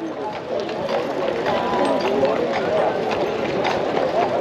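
Horse hooves clip-clop steadily while pulling a tourist carriage at a walking pace, a continuous rhythmic clatter close by, with street crowd noise and voices talking over it throughout.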